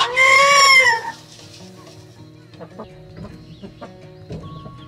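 Chickens cluck, opening with one loud, drawn-out squawk followed by scattered softer clucks and small scratching noises nearby.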